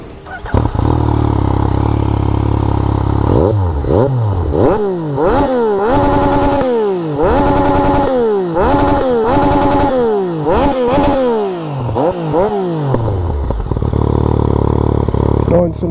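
A Yamaha MT-09 SP motorcycle fitted with a Haro exhaust, catalytic converter and baffle kept, idling loudly up close, then revved in a series of sharp rising and falling blips before settling back to a steady idle.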